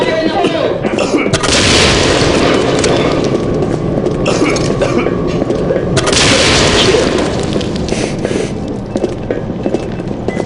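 A grenade blows up in the shooter game Combat Arms, a loud booming blast with a sharp onset followed by a long rumbling decay, then a second burst a few seconds later amid continuous game noise.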